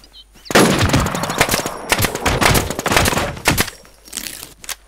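Rapid automatic gunfire from the survival shooter Infestation Survivor Stories, loud and close, rattling in dense bursts for several seconds before fading out.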